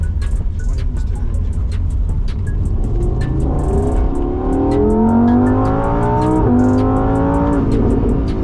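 A Lamborghini Huracan V10 engine revs and climbs in pitch, roaring loudly up close with a rising, aggressive snarl.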